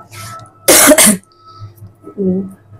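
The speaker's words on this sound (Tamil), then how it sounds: "என்ன திடீர்னு இருமல் வர மாதிரி இருக்கும்" A single loud, harsh cough burst, close to the microphone, preceded by quiet breathy sounds and followed by a brief voiced murmur.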